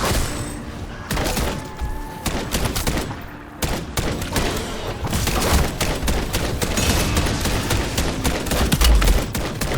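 Rapid gunfire rattles through a Call of Duty Modern Warfare III match, with repeated bursts and sharp shots stacking up loud and close alongside thuds and explosions.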